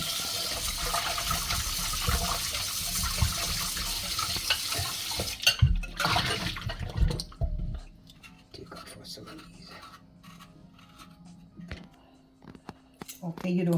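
Hibiscus and ginger are rinsed under a running kitchen tap, a steady splashing stream that cuts off about halfway, followed by quieter handling and clinking sounds.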